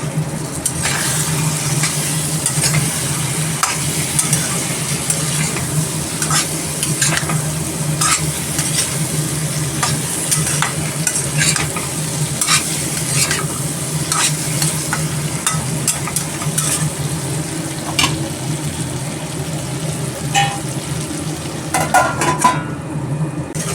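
Chicken pieces and potatoes fry together in a pan for an Assamese chicken dish, with a constant loud sizzle broken by repeated scraping and stirring strokes close by, and no voices.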